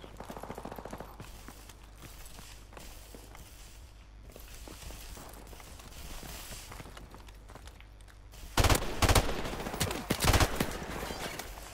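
AK-47 automatic fire in Modern Warfare Remastered, with loud bursts of rifle shots near the end over a steady background of in-game footsteps and movement.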